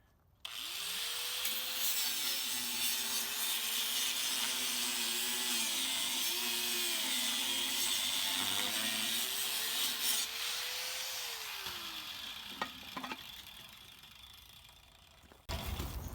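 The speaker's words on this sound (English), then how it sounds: "Here's the weld area, so you cut below that so you're not going through the thick part." A saw rasps steadily through the metal casing of a compressor just below the weld, a continuous close grinding stroke sound lasting about twelve seconds before it stops.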